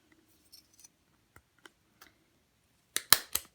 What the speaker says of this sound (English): Punch a hole in the top of your card.